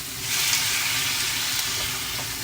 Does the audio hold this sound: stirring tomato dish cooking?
yes